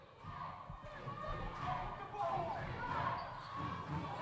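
Rhythmic crowd clapping chanting the syllables of CCA at a girls' basketball game against Hoban, steady claps under gym noise, ball bounces and voices.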